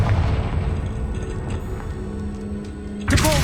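A Confringo spell explosion in a Harry Potter video game: a deep rumbling boom at the start that fades out, then a sharp crackling burst near the end.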